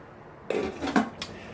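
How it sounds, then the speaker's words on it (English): A lid set onto a pot of detox tea on a stovetop, giving a short metallic clatter followed by a couple of lighter clinks, close and alone. "I'm going to put a cover on it"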